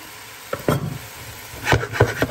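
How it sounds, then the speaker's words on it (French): Olive oil poured onto a pan of couscous vegetable preparation, bursts of sizzling and stirring scrapes coming in two uneven clusters, close and moderately loud. "Et nous ajoutons de l'huile d'olive à la préparation."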